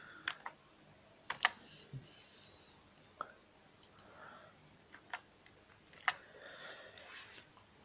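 Someone types a search query on a computer keyboard in a quiet room. The keystrokes are sparse and irregular, with a few sharper clicks among softer taps, and there is no talking.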